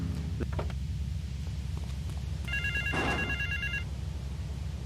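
A payphone ringing in South Belleville Park in Grand Theft Auto 3: one trilling electronic ring of about a second, midway through, over a constant low engine-like rumble and faint ambient thumps.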